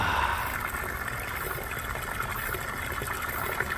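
Water gushes from a hose at a tree stump outdoors, making a steady, soft rushing wash with no pauses.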